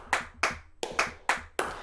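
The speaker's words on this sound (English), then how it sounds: "some of the clap sounds originally have the reverb on them" Six sharp, dry hand claps from the 99 Sounds Clap Machine plugin with reverb switched off, evenly spaced at a brisk steady rhythm, close and loud, each with a short bright tail and nothing else around them.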